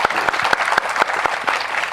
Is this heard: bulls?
no